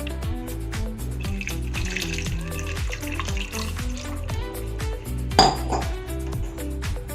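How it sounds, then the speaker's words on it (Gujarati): Water runs and splashes into a metal pot of potatoes over a steady background hum, with a louder clatter of cookware partway through. "એમાં પાણી નાખી અને આપણે એને કૂક થવા દઈશું."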